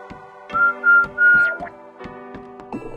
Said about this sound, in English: Press Y to whistle a festive tune and distract a guard robot.